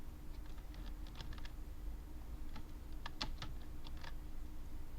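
Code is being typed on a computer keyboard, a close, quiet patter of key clicks arriving in short bursts with brief pauses between them.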